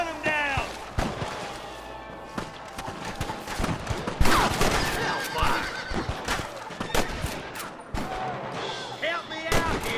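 Gunfire in the game Red Dead Redemption: repeated sharp shots crack out irregularly over ten seconds, mixed with horse whinnies, hoofbeats and shouting voices, loud and near.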